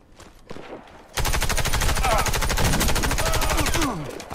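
Rapid automatic gunfire in the video game Warface, a loud continuous burst of evenly spaced shots lasting nearly three seconds, preceded by a few scattered shots and footsteps.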